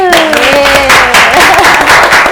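Loud audience applause on a Thai TV talk show set, brisk clapping with cheering voices, while music or a sliding tone fades at the start.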